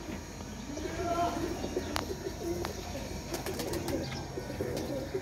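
A golden pigeon among flying pigeons, cooing softly amid a busy ambient wash of other birds, with brief sharp chirps and occasional faint voices nearby.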